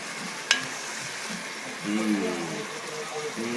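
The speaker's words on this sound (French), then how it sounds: "on va laisser encore mijoter ça." Sesame chicken simmering in a pan, a low steady bubbling sizzle with one sharp clink early on, while a person talks over it.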